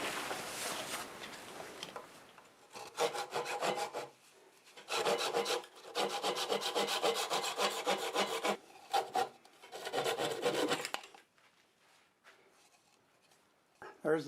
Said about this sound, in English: I just sawed it off